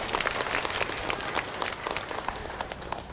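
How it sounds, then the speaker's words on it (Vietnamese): A church congregation applauds the parish choirs at the feast of Saint Catherine at Hoàng Nguyên parish, a warm, lively round of clapping from many hands, fairly close and steady, easing slightly toward the end. "Chúng ta cùng chúc mừng cho anh chị em các ca đoàn bằng một tràng pháo tay thật nồng nhiệt."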